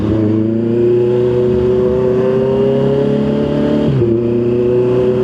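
Honda CB650 motorcycle engine revving hard and close, its pitch climbing steadily before a brief dip and recovery near the end, loud and continuous with no talking.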